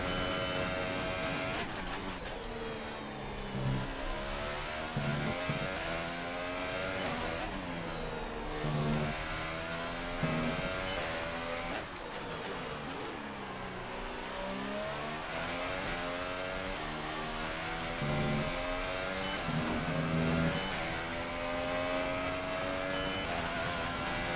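A race car engine revs continuously in an F1 career-mode video game at the Australian Grand Prix, loud and dense, its pitch sweeping up and down through repeated gear shifts without a break.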